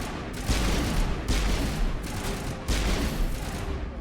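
A grenade goes off during combat in the Mass Effect video game, a loud sustained blast and gunfire roar with three broadband surges that fill the clip, with no voices over it.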